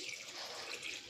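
Water, about a glassful, pours into a cooking pot of greens sambar, a brief soft continuous splashing stream heard close and alone.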